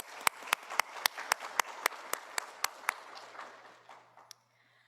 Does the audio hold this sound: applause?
yes